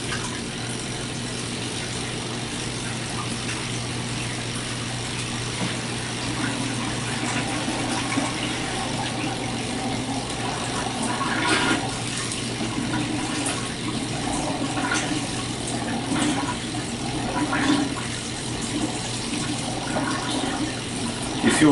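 A portable washing machine drains water in a continuous, steady gurgling rush with a low pump hum, holding an even level throughout with faint sloshing.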